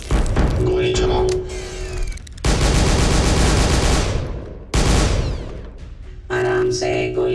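Bursts of rapid gunfire crackle in a Hindi-dubbed Hollywood action scene. The loud volleys come in three bouts separated by short gaps, mixed with voices.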